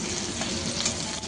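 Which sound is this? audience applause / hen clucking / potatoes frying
potatoes frying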